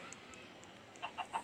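A chicken in a Minecraft-style video game lets out three short, soft clucks near the end, over a faint steady background hum.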